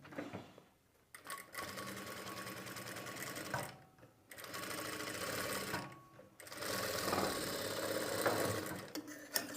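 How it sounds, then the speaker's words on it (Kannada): A sewing machine stitches a garment lining at the neck side, running in three long, steady bursts separated by short pauses, close and clear, no talking. "ಹಾಕ್ಕೊಂಡ ನಂತರ ನಾರ್ಮಲ್ಲಾಗಿ ಈಗ ಸ್ಟಿಚ್ ಮಾಡಿ"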